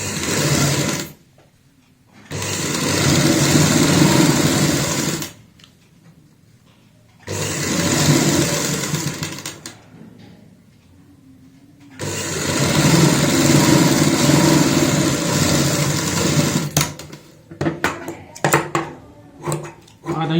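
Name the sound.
sewing machine stitching palazzo fabric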